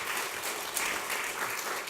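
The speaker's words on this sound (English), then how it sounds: "Let's give Neil a big round of applause." Steady applause from an audience at an ad tech startup awards event, a dense, even clatter of many hands clapping throughout.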